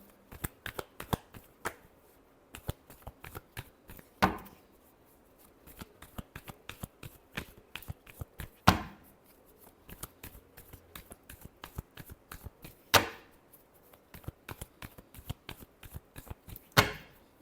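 Tarot cards are shuffled by hand up close, a long run of quick crisp riffling taps broken every few seconds by a louder slap as the deck is squared.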